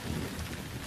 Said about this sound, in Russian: Кроме дождя.